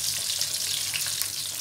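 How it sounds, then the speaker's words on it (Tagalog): Chicken sizzling as it fries in oil over low heat, a steady close crackling hiss running the whole time with no talk. "so simulan na tayong nag-prito"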